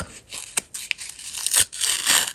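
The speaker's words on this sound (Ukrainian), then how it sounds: "Давайте відкриємо наш пакетик" A paper surprise packet being torn open and crinkled, with sharp rips and rustling bursts at close range, irregular and quiet, no voices.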